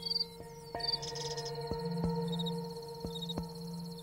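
Crickets chirp in a garden, repeated thin high trills and pulses over a steady tonal hum, fairly quiet with no talk.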